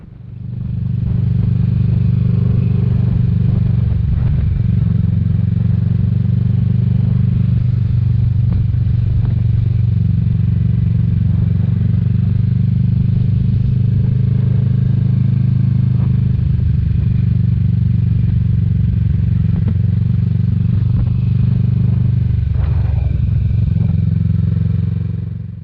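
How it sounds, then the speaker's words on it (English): Kawasaki Vulcan S 650 motorcycle rumbles steadily on the road on a windy day, with a few throttle blips and shifts breaking the drone amid heavy wind buffeting. "It's the timing of blipping the throttle and downshifting I still got to work on."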